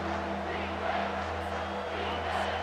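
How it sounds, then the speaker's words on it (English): The home crowd at a college football game between Florida State and Alabama roars in a dense, continuous wash of cheering and shouting that fills the whole stretch, loud and distant. "Here comes this home crowd as the defense tries to get off the field on third down."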